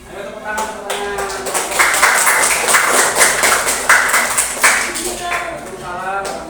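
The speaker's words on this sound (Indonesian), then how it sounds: "Ayo tepuk tangan, tepuk tangan." Classroom applause from students and teachers, a burst of brisk clapping that builds quickly and rattles on for several seconds, with voices mixed in under the hands.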